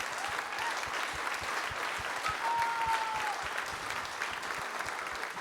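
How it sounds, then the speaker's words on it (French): Crowd at an official skipper presentation for the Golden Globe sailing race clapping for a sailor, a sustained, even patter of applause heard from within the room. "Applaudissements pour Damien Guillou"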